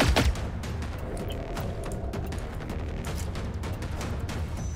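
Automatic gunfire in the video game Generation Zero, a dense, continuous burst of rapid shots that starts with a loud boom and keeps rattling at steady loudness for several seconds, with no talk.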